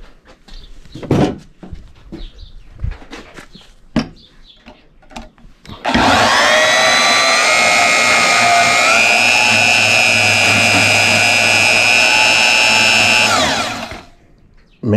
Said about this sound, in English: So we're going to cut that out. Get our bandsaw out.